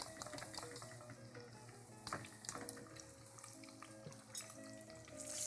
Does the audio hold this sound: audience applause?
no